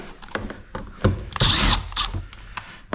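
A power drill-driver whirs briefly while backing a Phillips screw out of door trim on a 2025 Toyota Camry, a short loud burst amid clicks and handling noises of the panel work, close to the mic.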